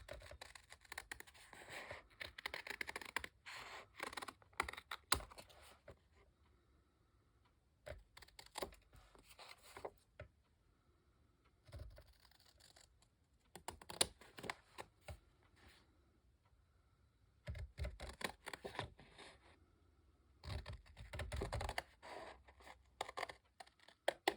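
Paper is trimmed for a journal collage, with quiet, close snipping and scratching that comes in intermittent bursts separated by pauses.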